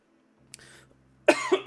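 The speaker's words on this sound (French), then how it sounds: "Mon Dieu, désolé pour la toux." A single short cough from one person, close and fairly loud, preceded by faint breathy rustling in a quiet room.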